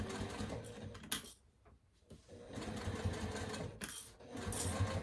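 A Juki sewing machine stitches through thick fabric with a fast, steady mechanical whirr. It pauses for about a second near the start, then resumes at close range.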